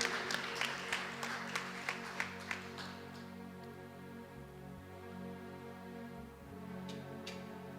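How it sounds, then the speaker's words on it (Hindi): Members of a congregation at a healing and deliverance prayer service clap in a run of distinct rhythmic claps over a musical backdrop, fading after a few seconds while the music carries on. "जोरदार ताली बजा के प्रभु के महान चिन्ह और चमत्कारों के लिए धन्यवाद देंगे।"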